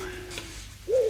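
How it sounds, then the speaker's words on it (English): A wood pigeon gives a short soft coo near the end, after a faint thin birdcall, against quiet outdoor ambience of a dawn chorus. "And then the wood pigeons join in."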